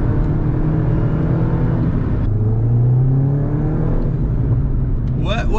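A Mini GP race car engine drones steadily and loudly from inside the cabin, a continuous rumbling whir with a small shift in pitch partway through.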